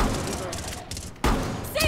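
Gunfire in the video game Rainbow Six Extraction, a burst of shots and heavy thumps with a loud blast near the end, mixed with game noise and a voice.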